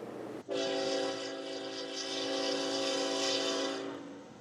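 A Norfolk Southern trash train sounds its horn in one long, loud, sustained blast that starts abruptly and holds steady for several seconds before fading slightly.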